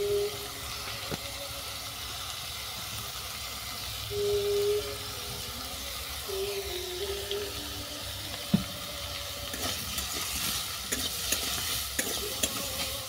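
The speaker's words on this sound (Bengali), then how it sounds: "হলুদটা ভালো করে মিশিয়ে নিলাম" Fried cucumber and ridge gourd are stirred with turmeric in a pan for a vegetarian banana stem dish. A steady soft sizzle runs throughout, with occasional scrapes and clinks from the stirring and a splashier, more watery texture toward the end.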